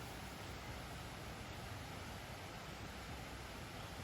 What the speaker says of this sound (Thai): เสียงน้ำดังมาก ๆ